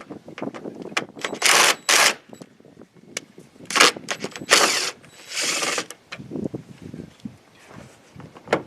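Ratchet wrench loosening an 8mm bolt on a Toyota Avalon bumper cover outdoors: loud bursts of rapid clicking come in several separate runs, broken by quieter handling noise and a few sharp knocks.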